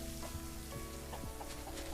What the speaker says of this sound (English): little chickens are happy and stuff